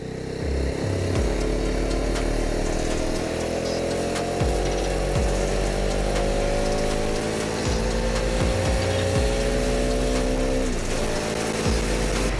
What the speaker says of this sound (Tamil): இன்ஜின் ரேட் நல்லா ஆகுது, நல்லா அந்த ஆர்பிஎம் லிமிட்டுக்கு போய் போய் நல்லா டேஷ் ஆகுது